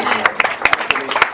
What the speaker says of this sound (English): So give them another huge round of applause,